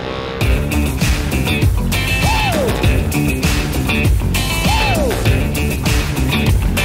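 Gravel bicycle tyres crunch and grind steadily over loose gravel during a gravel race near Girona, a continuous, close, noisy rumble, with a couple of brief high squeaks rising above it.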